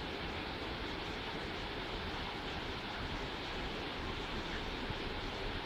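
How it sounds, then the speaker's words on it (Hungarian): A stream near Klostersee in Pfullingen rushes with a steady, even wash of broadband noise, constant and fairly soft without distinct splashes or any voices. "víz zenéje, patak."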